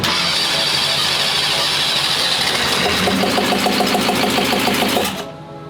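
A pro dragster engine cranks over loudly and continuously with a steady, fast mechanical churn for about five seconds, then cuts off abruptly, leaving a quieter background.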